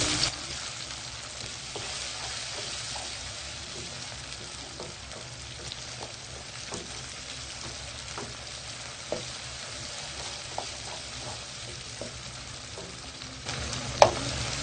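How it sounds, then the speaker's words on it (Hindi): Tomatoes fry in a pan with a soft, continuous sizzle and occasional light stirring taps, fairly quiet and close, with a single sharper clink near the end. "टमाटर गलने तक हम इसको भूनेंगे।"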